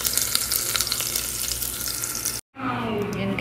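Beef caldereta frying in a pan, a steady broadband sizzle that runs continuously, cuts out abruptly for a moment, then resumes with softer stirring and bubbling.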